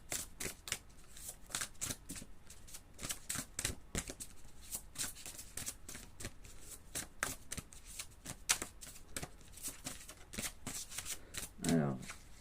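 Tarot chakra cards are shuffled by hand in a quick, crisp run of riffles and flicks, close and fairly quiet, with a brief soft voice near the end.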